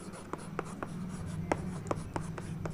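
A pen scratches across paper in a run of short, crisp strokes up close during an English grammar lesson, with a low hum behind it and no talking.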